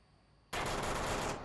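Rapid automatic gunfire bursts out suddenly and loudly in the VR shooter Onward, a dense run of shots lasting about a second after a quiet lead-in.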